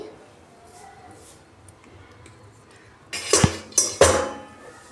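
Two or three sharp metallic clunks of a pot being set down on a stovetop near the end, after a quiet stretch of faint room noise.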